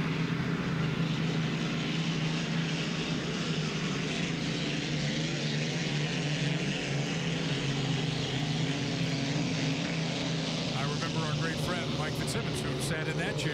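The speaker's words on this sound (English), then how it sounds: "Just listen to the thunder. That's why they call them thunder boats." Vintage unlimited hydroplane thunder boats, the Atlas "Blue Blaster" and Miss Budweiser, roar steadily at Seafair 2014 with a deep sustained engine drone, a crowd murmuring underneath and brief clatter near the end.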